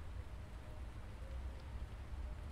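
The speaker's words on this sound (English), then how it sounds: "So it's raining" Rain falls steadily in CHANGE: A Homeless Survival Experience, a dense continuous hiss that stays even and moderately loud for the whole stretch, with no voices over it.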